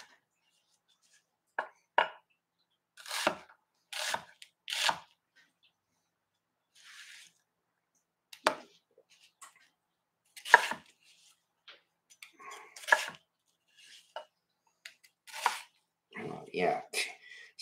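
A sharp knife cutting onions into big chunks on a board, scattered crisp chopping strikes in short irregular bursts, close and clear, with quiet pauses between cuts.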